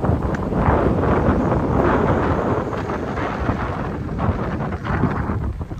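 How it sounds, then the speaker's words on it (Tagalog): Strong wind at a fishing spot in Saipan buffets the microphone in a continuous roaring rumble, gusting slightly louder and softer throughout with no voices. "Lakas na ng hangin eh."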